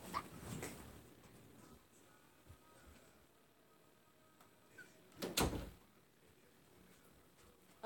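A door closes with a muffled thud in a quiet room, followed by a faint shorter knock, with low background noise and no speech.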